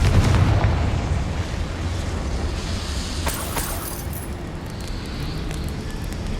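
A deep, rumbling blast from the Confringo spell in the game Hogwarts Legacy, a dense booming burst that rolls on as a continuous low roar with crackling debris and no voices.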